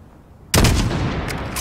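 A sudden loud shot from a long-range weapon in the Call of Duty Modern Warfare mission Highway of Death, starting after a half second of near silence and trailing off in a long booming echo.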